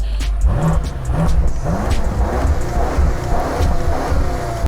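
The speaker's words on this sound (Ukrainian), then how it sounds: "давайте ось послухаємо, як звучить в нас вихлоп в комфортному повністю режимі" A car exhaust in comfort mode hums fairly quietly and close, with a few gentle rising revs in the first two seconds before settling into a steady drone, with no voices.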